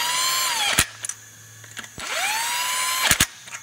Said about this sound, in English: I just gently run the bolts in with an impact